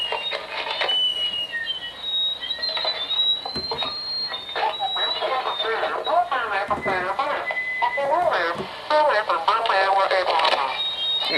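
A Radio Shack scanner picks up a cordless phone frequency, and voices come through loud, steady and radio-filtered over a continuous hiss and thin tonal whines.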